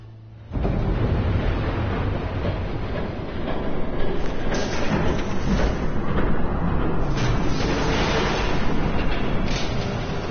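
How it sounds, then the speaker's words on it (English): In the Batman Telltale video game an approaching train bursts in with a sudden loud, dense rumble and clatter that stays heavy and continuous to the end, with bright metallic rattles rising over it. "There's a train coming."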